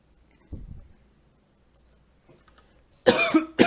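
After a quiet stretch with a few faint clicks, a single sharp cough bursts out close to the microphone near the end.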